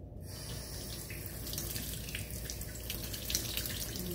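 A kitchen sink tap runs steadily as a pet bird showers under the water, a continuous close splashing hiss with no talking.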